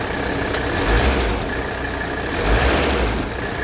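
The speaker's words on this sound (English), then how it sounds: "Okay, we're right about 900 right there. See how smooth that engine is now?" A 1985 Mercedes 300TD diesel engine idles smoothly at about 900 rpm, a steady low rumble with a slight rise and fall in level, close and alone.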